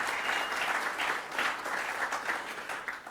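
Brief, steady applause from a gathering at a press conference for the Rocket Classic golf tournament, dense clapping with no talk over it.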